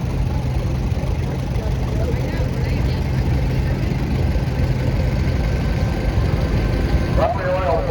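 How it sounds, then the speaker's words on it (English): A 1929 Model X tractor's four-cylinder gas engine runs at a steam and gas engine society parade, a loud, steady low rumble throughout while a person talks over it. "four-cylinder gas motor."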